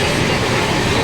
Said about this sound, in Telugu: మనం వచ్చిన ట్రైన్